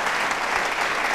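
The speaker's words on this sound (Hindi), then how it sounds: "तालियां बजाइए इस जानकारी के लिए।" Audience applause at an election-themed quiz show at a technology and management institute, a dense, steady burst of many hands clapping that fills the whole short moment without talk.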